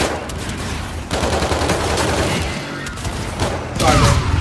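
Slide shotgun fire and other weapons boom repeatedly in a first-person shooter video game, with loud, dense bursts and thuds layered over continuous battle noise.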